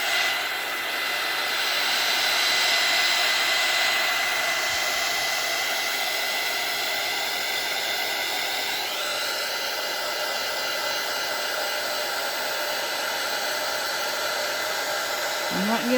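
A handheld craft heat tool blows hot air onto craft material, giving a loud, steady, close whooshing drone that holds for the whole stretch, swells slightly early on and ends with a brief clatter.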